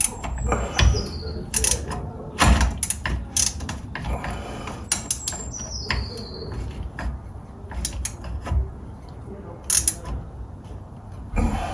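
A ratchet works on a nut and bolt holding a BMW electric power steering rack, making close, repeated clicking and metallic clatter in short bursts with brief pauses. Faint speech can be heard in the background.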